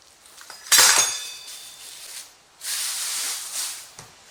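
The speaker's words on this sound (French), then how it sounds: "je coupe à l'aide de l'ustensile pour pizza" A hand-held pizza wheel cutter rolls and slices through rolled-out dough for stuffed krichlates pastries, giving a short bright scraping burst followed by a softer, steady hiss and a second longer swish.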